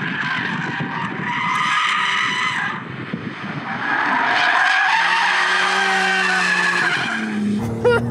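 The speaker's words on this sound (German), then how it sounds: "Ja, Philipp, er geht quer. Und zwar auch mit Allradantrieb." A Porsche 911 Targa 4S with all-wheel drive and 450 hp drifts sideways, its tires skidding and squealing loudly and continuously for several seconds over a steady engine note.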